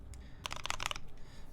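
A Keycult No. 1 mechanical keyboard clacks in a short, quick burst of keystrokes, close but fairly quiet over faint background hiss.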